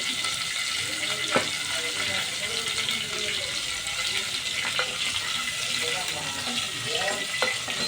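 Eggs frying in a pan of oil for an egg curry, a steady close sizzle running throughout with a few sharp spatula scrapes and stirring clicks.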